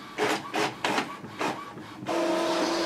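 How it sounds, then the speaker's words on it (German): An Epson printer prints a page: four loud rhythmic rasping feed strokes in quick succession, then a steady whirring hum with a faint tonal whine, close by with no talking. "Und dann druckt der Drucker automatisch aus."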